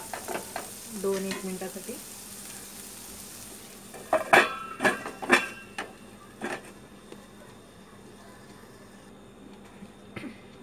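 In a home kitchen, a pan of tawa pulao with capsicum and carrot sizzles softly while a metal lid clanks on in a few sharp knocks midway, and someone speaks briefly.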